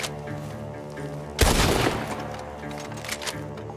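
A single heavy gunshot booms in Red Dead Redemption 2, sharp and loud, then fades over steady tonal background music, with faint softer knocks afterward.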